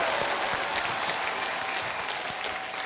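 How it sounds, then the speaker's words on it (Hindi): Studio audience applause on the Kaun Banega Crorepati game-show set welcoming contestants: a thick, steady roar of many hands clapping, continuous and even from start to end. "तालियों के साथ इनका स्वागत किया जाए"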